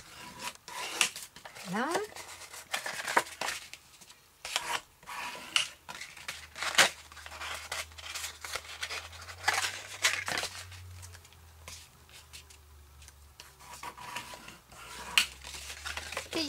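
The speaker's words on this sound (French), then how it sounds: "On va venir marquer nos plis." Folds being creased into a paper card base for a pop-up staircase card: close, repeated rubbing and scraping strokes in short bursts, with a brief spoken word.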